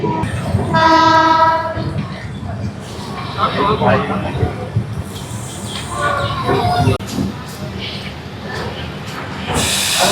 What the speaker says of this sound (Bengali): ট্রেন এখন রামপুরহাট জংশন ঢুকছে